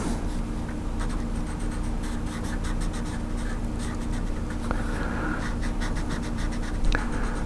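A pen coloring in black on heavy drawing paper for a beginner Halloween drawing, giving a steady, close scratchy scribble of nib on paper that runs throughout with no voices.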